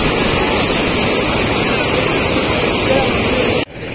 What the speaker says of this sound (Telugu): ఈ ఫోర్స్ చూడండి, వాటర్ ఫోర్స్